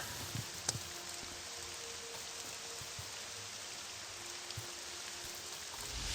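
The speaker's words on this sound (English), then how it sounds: "It's going to still be raining here, let me guess." Steady rain falls in the Morrowind game world, a soft continuous hiss with scattered drop ticks, fairly quiet and unbroken, with no voices over it.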